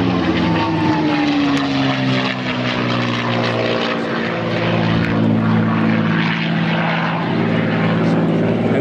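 A P-51 Mustang with its Merlin engine flies at an airshow, its propeller drone loud and steady throughout with a slowly shifting pitch as it passes, and no talk over it.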